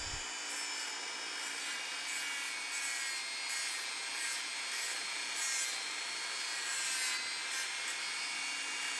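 The soldered end of a cable for a Yamaha TY175 motorcycle carburetor is cleaned up with a continuous, close rasping scrape in a steady rhythm of strokes, with no talking.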